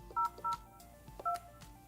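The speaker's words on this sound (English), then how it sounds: "dial the number you want to transfer the call to" Keypad tones from dialing a number on a Yealink desk phone: three short, clean beeps, two in quick succession and one after a pause, close and clear with no talk.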